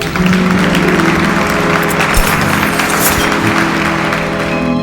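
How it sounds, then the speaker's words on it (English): A crowd claps and cheers steadily and loudly throughout, a dense, continuous wall of applause at a dolphin show in the video game Atomic Heart. "Your applause, please."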